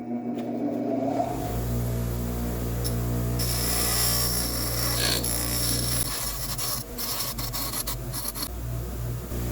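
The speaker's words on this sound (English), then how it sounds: "I just switched out the wire wheel to a grinding wheel. And I'm going to grind this slide hammer bit to a point." A bench grinder fitted with a grinding wheel sharpens a slide hammer bit to a point, giving a loud steady whirring motor tone under harsh rasping as the steel is pressed against the wheel in several passes.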